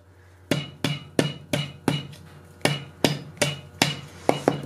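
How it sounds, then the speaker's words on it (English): A rawhide mallet strikes hot metal while a hand is forged, curling the fingers: about a dozen sharp, close blows in a steady, slightly uneven rhythm, each ringing briefly. "try to get those to curl with just the edge of the rawhide mallet."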